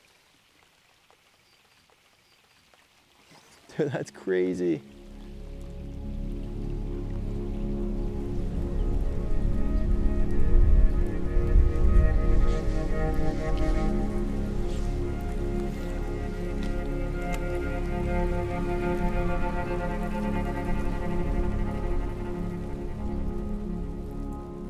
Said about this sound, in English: there's just a wall of rain coming towards us. We could hear it.